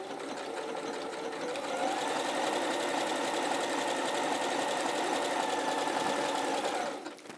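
Close and steady, a sewing machine works a blanket stitch along a quilt, its motor whirring with a rhythmic needle clatter for about seven seconds before winding down at the end.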